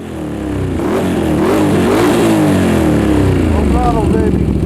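Can-Am Outlander ATV engine with a newly fitted left-handed throttle revving hard at full throttle, a loud, close, sustained roar rising and wavering in pitch, with a voice talking over it.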